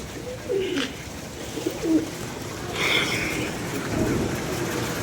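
Pigeons coo in short, soft bursts several times against a steady background hiss, fairly close and with no one speaking.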